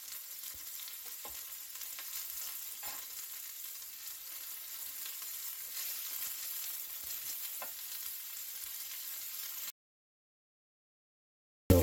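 Onions and celery sizzle steadily in butter in a pan, a continuous close hiss with faint stirring clicks, stopping abruptly near the end.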